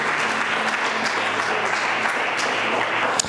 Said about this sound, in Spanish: Cuando damos un aplauso al Señor Yahshua.